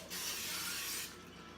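A single steady burst of cooking oil spray misted into the bottom of an air fryer basket before sliced potatoes go in, a close, bright hiss lasting about a second before it cuts off.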